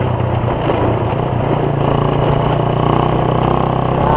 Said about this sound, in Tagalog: Takbo ng motor natin